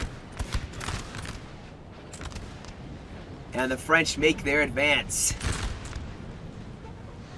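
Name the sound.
musket fire and cannon in video game Napoleon: Total War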